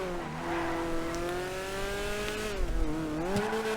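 In a video game, a Grotti Stinger's steady engine drone holds one pitch, then dips and climbs as the car revs, loud and continuous throughout.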